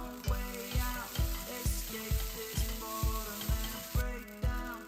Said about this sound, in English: I fry the tofu until it turns golden